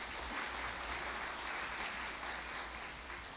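An audience at an August 2014 university degree-conferment ceremony applauds: a dense, steady round of clapping from many hands that fills the hall at an even level throughout, with no voices rising above it.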